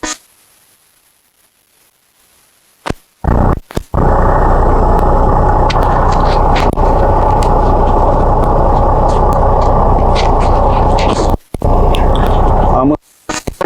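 A heavy truck's diesel engine rumbles loud and close in a cab during a CDL skills check, starting after a near-silent pause and a sharp hiss of released brakes, then droning steadily with brief dropouts while someone talks.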